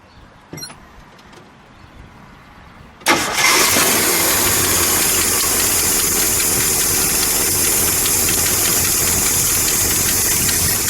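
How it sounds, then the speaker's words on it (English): A red 1966 AMC Rambler American convertible with a 290 cubic-inch V8 and four-speed cranks briefly after a couple of quiet clicks, then catches and settles into a loud, steady, close idle with no talking. "Let me listen to that idle."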